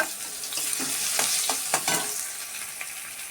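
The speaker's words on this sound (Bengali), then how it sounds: "পেঁয়াজগুলো ভেজে নেব।" Onions frying in oil in a pan where other pieces were just fried, a continuous bright sizzle with a run of scraping stirs in the middle and no speech.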